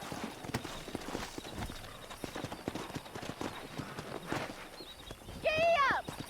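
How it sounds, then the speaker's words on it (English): Horses clop along with rapid hooves in the Western video game Red Dead Redemption, the hoofbeats moderately close and continuous, ending with a sharp neigh near the close. "Let's see if we can't wrangle some horses."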